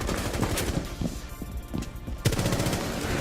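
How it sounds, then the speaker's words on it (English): Rapid automatic gunfire from Rainbow Six Siege, a burst of shots sprayed at a wall without recoil control, with a brief pause mid-burst before a loud resumption; continuous, close and punchy. "So if you shoot a gun and you do no recoil control, you just aim at a wall and shoot it."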